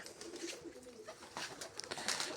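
Pigeons coo in a loft where young squabs have just hatched, a soft, continuous low warble with a few sharper rustles and taps mixed in.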